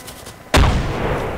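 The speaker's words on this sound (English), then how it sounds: "Yeah, I was shooting at the tree that was floating." A single loud, booming gunshot from a realistic military shooter video game bursts out sharply, followed by a lingering rumbling echo.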